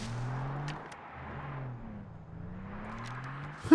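A car in the video game Far Cry 3 drives away, its engine humming steadily at low volume with the pitch dipping and rising as it moves off, then a short louder knock at the very end.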